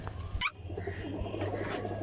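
A golden pigeon, a flying pigeon kept by a fancier, gives a short, close, soft coo in a quiet outdoor setting.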